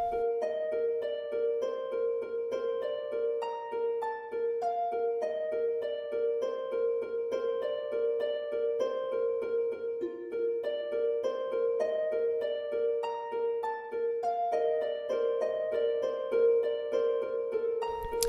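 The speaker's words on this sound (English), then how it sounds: "I just took a harp and played lines that go down" Harp plucking gentle descending melodic lines over a soft sustained tone, forming calm background music for a rain biome in an evolution simulation game; even, continuous and fairly quiet, with no voices.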